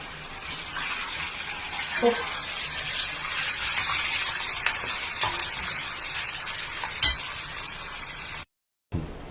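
Tempering for lemon rice crackling in a pan, a continuous close sizzle with occasional stirring knocks, cutting out briefly near the end.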